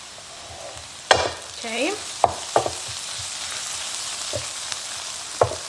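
Chopped onion sizzles steadily in a pan with salt while a spoon scrapes and clanks against it in a few sharp knocks, heard close up; a voice briefly speaks once.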